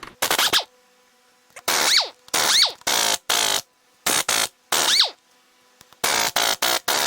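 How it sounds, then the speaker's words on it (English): A ratchet on flywheel bolts of a Porsche 911 996 clicks in short, loud, close bursts separated by pauses, with a few quick rising squeaks among the bursts. "see if we can get these flywheel bolts out."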